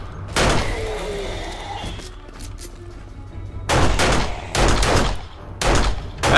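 Loud, sharp handgun shots from 7 Days to Die fire at a zombie: one early crack, then a cluster of three or four spaced blasts after a quiet stretch.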